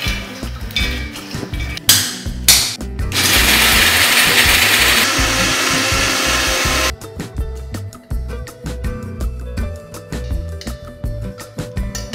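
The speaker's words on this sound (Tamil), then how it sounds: "ட்ரையான மிக்சி ஜாரில் போட்டு நம்ம பொடியாக்கி எடுத்துக்கலாம்." A loud mixer grinder grinds dry nuts in a couple of short bursts, then runs steadily for several seconds before stopping, followed by rattling and clattering.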